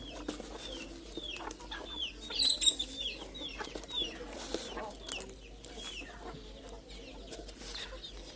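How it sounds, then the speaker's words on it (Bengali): Native chickens eating mixed feed cluck and chatter softly nearby, with a louder burst of clucking partway through over a low outdoor background. "দেখুন আপনারা মিক্স খাবারগুলো মুরগিকে কীভাবে খায়, খুব সুন্দরভাবে মুরগি এগুলো খাচ্ছে।"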